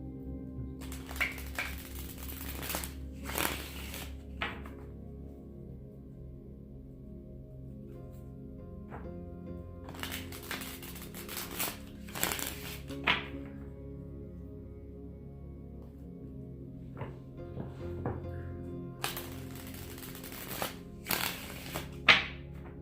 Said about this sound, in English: Now I'm going to pull some Rider-Waite tarot cards